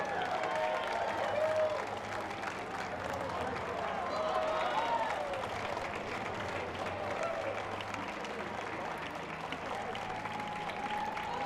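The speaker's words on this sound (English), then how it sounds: "Give them a big round of applause." Parade spectators at the Strolling of the Heifers applaud a Vermont and Massachusetts baton twirling team, a soft, distant spatter of clapping with a voice talking over it at times.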